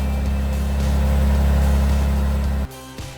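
Maserati Ghibli SQ4 on a road test drive after a brake fluid flush, its engine giving a steady loud low drone with cabin hum that suddenly drops off near the end.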